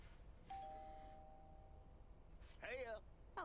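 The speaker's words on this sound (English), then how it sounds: "Ring doorbell." A doorbell in the video game Lake rings with a clear electronic tone held for about a second and a half, followed by a short electronic chime; someone speaks at the end.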